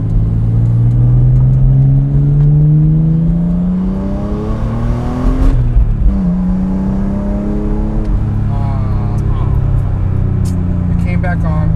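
A BMW E46 M3 engine while driving to warm up to operating temperature: a close, loud engine note that rises and falls in pitch through repeated accelerations and gear changes.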